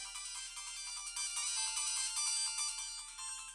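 Tinny, bright Sonic the Hedgehog 3 game music blares from a handheld console's small, loud speaker, thin and harsh with little bass, playing continuously without any voices.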